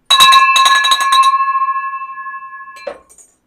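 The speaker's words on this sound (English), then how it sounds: "I have to walk back to ring the bell" A celebration bell rung in an office to mark a closed deal: a few quick bright clangs, then one sustained ringing tone that decays slowly over a couple of seconds before a faint clink at the end.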